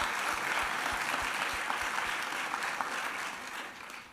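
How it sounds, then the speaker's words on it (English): A large audience at a fall university convocation applauds, a dense, steady wash of clapping heard from a distance that stays even for about four seconds before easing slightly. "Give yourselves a round of applause."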